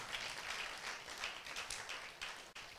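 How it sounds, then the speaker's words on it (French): Church congregation applauding during a Sunday worship service, a sustained wash of many hands clapping at moderate volume, fading briefly near the end. "Est-ce qu'on peut donner une main d'acclamation pour nos bien-aimés pour le travail qu'ils font?"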